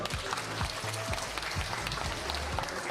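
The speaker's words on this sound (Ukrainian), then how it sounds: "Аплодисменти йому також." Applause at a wedding rehearsal, a steady patter of many hands clapping together at moderate volume throughout, without talk.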